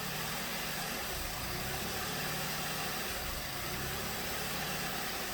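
A 2016 VW Golf 1.8 engine with a hard start and random misfire idles steadily at close range, a continuous mechanical hum with broad hiss and no voices.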